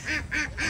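Ducks on Dublar Char in the Sundarbans give three evenly spaced, nasal quacks, near and clear, with no talk over them.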